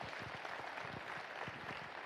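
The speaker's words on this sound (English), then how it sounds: "So a big round of applause for them." An audience gives a round of applause for a team at a spiritual gathering, with a quiet, continuous patter of many hands clapping at a moderate distance throughout.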